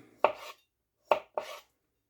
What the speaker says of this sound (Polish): nie ma dużo krojenia, także najlepiej to zrobić nożem